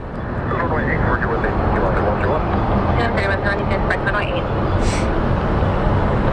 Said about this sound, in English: So let's wait for the Dreamliner to get into the takeoff position.